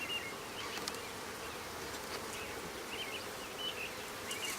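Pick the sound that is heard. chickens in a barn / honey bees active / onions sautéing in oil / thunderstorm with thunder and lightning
honey bees active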